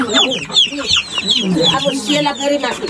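Chickens cluck steadily and close by, several birds overlapping in a busy, continuous chatter.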